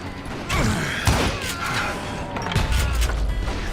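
Gunfire in the Western shooter Call of Juarez Gunslinger, several sharp cracks and booms spaced across the moment amid clanking mechanical noise and ringing tails, loud and close, no talk.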